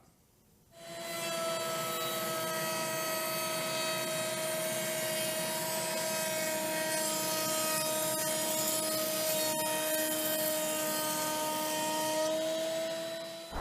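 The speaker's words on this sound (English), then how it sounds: "we're using the fence on the router table. So I've got the chip deflectors off because we're going to be working pretty tight to the fence. Let's make a cut" Router table cutting wood along the fence with a push guard: a loud, steady high-pitched whine with a grinding cutting rasp starting after a brief pause and holding evenly for over ten seconds, close up with no talking.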